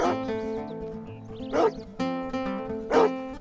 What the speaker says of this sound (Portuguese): O cachorro deve estar com muita fome, então eu vou pegar carne fresquinha para ele.